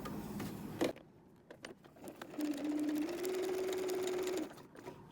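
Sewing machine stitching a seam on a canvas pencil pouch at a lengthened stitch setting, a steady motor whir running for about two seconds after a brief initial burst, close and fairly quiet.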